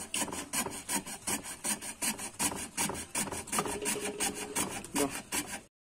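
A small-blade saw works through a Dutch teak slingshot frame in quick, steady back-and-forth strokes, about twenty rasping passes close by, before it suddenly stops.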